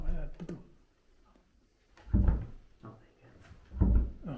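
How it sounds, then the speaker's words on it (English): A door in an abandoned building bangs or creaks with two heavy thuds a couple of seconds apart, close and fairly loud, with people talking faintly before them. "No, I heard the door."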